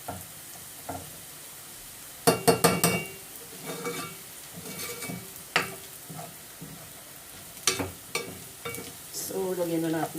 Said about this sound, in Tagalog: Igisa lang natin mabuti